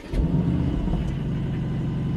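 An Aston Martin Vantage sports car engine catches with a quick rise and settles into a deep, steady idle rumble, heard up close with no talking.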